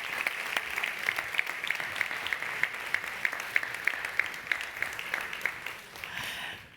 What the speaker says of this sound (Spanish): Ellos, un aplauso, sí.